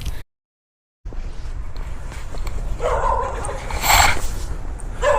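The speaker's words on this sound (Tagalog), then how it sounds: "Tapos tinahulan ako ng aso." A dog barking and yipping at a distance outdoors during a dumpster dive, a few sharp barks and whimpers rising near the end over background noise and some talk.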